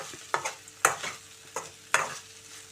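Okra pieces fry in a pan under a soft sizzle while a spatula scrapes and stirs in four or five distinct, evenly spaced strokes, fairly close and quiet.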